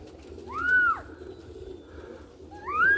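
Roller pigeons call with soft, rising cooing notes, one near the start and another toward the end, over a quiet outdoor background with a low steady hum.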